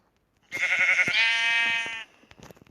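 A single sheep bleats once, loud and close, a wavering cry lasting about a second and a half, followed by faint rustling.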